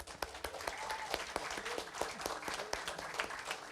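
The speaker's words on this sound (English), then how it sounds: "can we just have a warm round of applause for Tim Smith from the Actors Workshop?" A modest audience gives a round of applause for a workshop guest at an event, scattered claps close and fairly light, with a few faint murmurs beneath.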